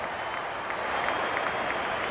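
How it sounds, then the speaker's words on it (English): Home crowd in the Rugby League 26 video game roaring after a try, a steady broadband wash of cheering and applause at moderate level throughout, with no voices clearly standing out. "That try sends the home crowd crazy."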